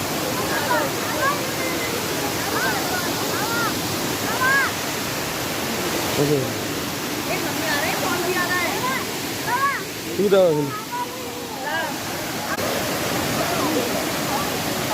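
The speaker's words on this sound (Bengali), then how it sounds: "দেখা যাচ্ছে ঝর্ণা" Elephant Falls in Shillong roars as a steady, broad rush of falling water filling the scene throughout, with people chatting and calling out over the constant outdoor wash.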